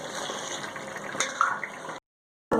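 Water poured from a glass into a pan of rohu fish curry masala, a close steady splashing pour that stops abruptly before a brief clatter.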